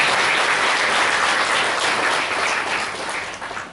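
A crowd at a lifetime achievement award ceremony breaks into loud, sustained applause that holds strong, then tapers off toward the end.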